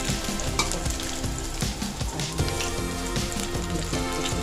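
Raw banana slices fry in oil in a pan for a vegetarian fish-fry dish, giving a loud, dense, continuous crackling sizzle close up, with faint scraping as the slices are turned.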